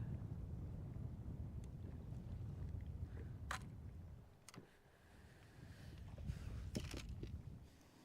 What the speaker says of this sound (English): Because it's a little breezy.